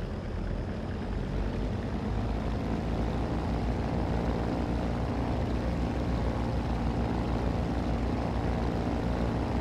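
A de Havilland Beaver DHC-2 single-engine plane landing at Lukla, Nepal, gives a steady, loud engine and propeller drone that holds at one level throughout, with no voices.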